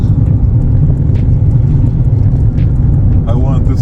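An electric Mini on a test drive gives a steady low road rumble and tyre noise throughout, close and loud, with a brief higher whine near the end.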